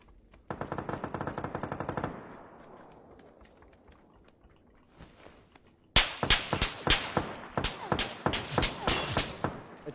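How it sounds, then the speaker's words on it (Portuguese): Fortnite gunfire: a rapid automatic burst of evenly spaced shots, a short gap with a fading tail, then a string of sharp, loud single shots ringing out in an uneven rhythm, with no voices over them. "o cara tá atirando em mim"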